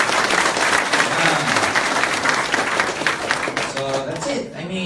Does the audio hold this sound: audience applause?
yes